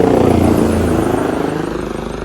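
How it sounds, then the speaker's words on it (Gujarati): Helicopter flying near the Kedarnath helipad in the Himalayan mountains, a loud, steady rotor and engine drone with rhythmic blade chop that eases slightly as it moves away, with no talk over it. "જોઈ શકો હેલિકોપ્ટર"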